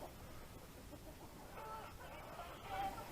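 Chickens cluck softly in a farmyard while being fed oilcake, a low steady murmur of hens with a few brief higher calls near the end.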